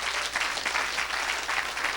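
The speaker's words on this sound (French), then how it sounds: "Quelqu'un acclame le Seigneur." A church congregation applauds the Lord in a steady, dense wash of clapping that stays loud and even throughout, with no clear voices above it.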